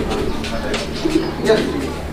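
Pigeons of a raw-bloodline breed at a seller's stall give a few soft, low coos, close by over a murmur of background noise.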